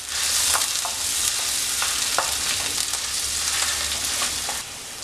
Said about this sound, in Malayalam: വെളുത്തുള്ളി ഇത് ചെറുതായിട്ട് മൂപ്പിച്ചെടുക്കാം.